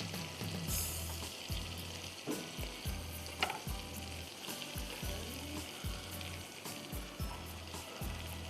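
Garlic sizzles and fries in a pan with a steady crackling hiss, and a utensil stirs it at a regular pace, all close by and without voices.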